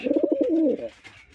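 Rajshahi Giribaj pigeon giving a short, close coo, a quick series of throaty pulses rolling into a brief drawn-out note, heard alone.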